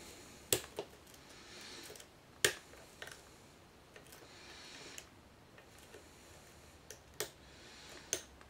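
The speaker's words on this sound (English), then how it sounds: "I hope you can hear all this clicking" Lock pick working key and driver pins inside a homemade challenge lock, sparse sharp clicks at irregular intervals, close and faint over quiet background.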